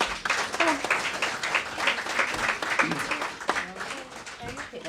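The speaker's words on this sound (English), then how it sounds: "I think they deserve a round of applause." A church congregation at a Sunday service claps for children, a steady wash of hand claps with voices talking over it throughout.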